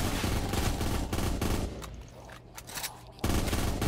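Dense automatic gunfire in Black Ops 3 custom Zombies, a loud continuous rattle of bursts with a brief lull in the middle before the shooting resumes at full strength.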